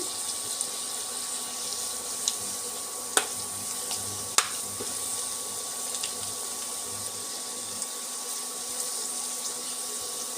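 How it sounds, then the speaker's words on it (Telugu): Pieces of Indian gooseberry (amla) fry in hot oil while being stirred, a continuous crackling sizzle broken by a few sharp clicks of the spoon against the pan, with no voices. "ఇవి కూడా బాగా ఫ్రై అవ్వాలంటే ఇలా కలుపుతూ ఉండాలి"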